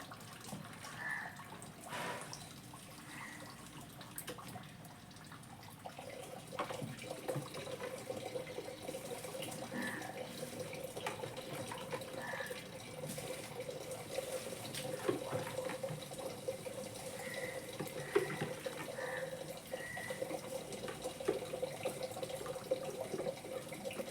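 Water running steadily from a tap or hose while plants are watered in hot, dry weather, a continuous moderate splashing flow throughout with faint background noise.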